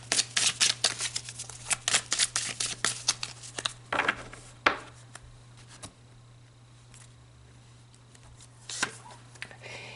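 Tarot cards are shuffled by hand in quick crisp riffles and flutters for several seconds, then sparse taps and slides as the deck settles, close and unaccompanied by voices.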